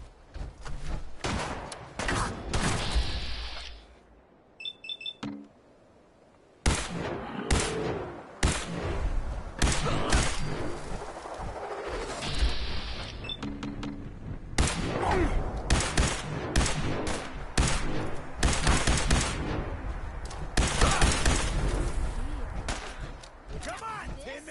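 Firefight in Fallout 4 on PS5, with repeated bursts of gunfire and loud blasts running almost throughout, broken by a brief lull, while voices shout over the shooting.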